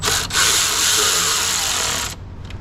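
A power tool runs close by for about two seconds and then stops, snugging the valve cover bolts on a Ferrari F430 engine with a loud, steady buzzing whir.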